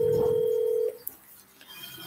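A telephone call tone sounds as one steady beep for nearly a second and then cuts off, leaving a quiet line with faint clicks and low noise.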